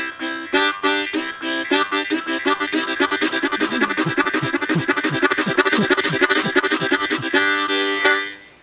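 A harmonica plays a rapid run of tongued tucka ticka notes that starts slow and speeds up, loud and close, ending on a held chord with no voice.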